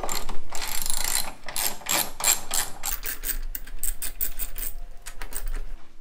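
A ratchet and socket loosen bolts on a Jeep JK tire carrier hinge, giving rapid bursts of close, sharp metallic clicking in several quick runs separated by brief pauses.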